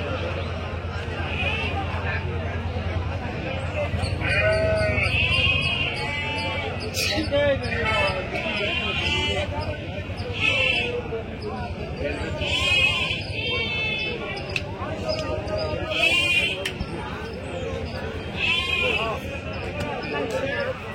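Sheep and rams at a busy weekly sheep market bleat now and then, some calls near and others farther off, under steady crowd chatter and people talking close by.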